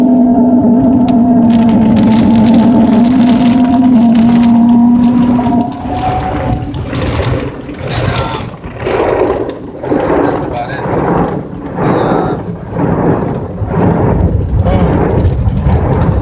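Loud, rushing water spray in pulsing waves from an automatic car wash, with a low mechanical hum and rumble, heard from inside the car; no talking.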